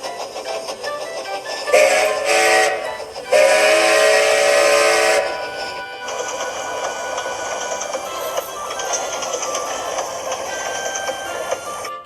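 A steam engine sounds two loud whistle blasts, then hisses and rumbles steadily, the working noise continuing evenly throughout.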